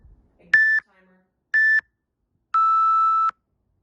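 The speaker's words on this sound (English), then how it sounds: "Ignore the timer." Three electronic timer beeps during a pillow-and-block abs and toning workout: two short tones about a second apart, then a longer sustained tone, clear and fairly loud in an otherwise quiet room.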